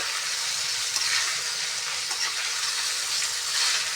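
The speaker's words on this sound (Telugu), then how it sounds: "ఈ విధంగా కలుపుకుంటా వేయించుకోవాలి ముక్కలన్నీ" Curry pieces frying in a pan while stirred so all sides cook, a dense steady sizzle nearby with soft intermittent stirring scrapes, no speech.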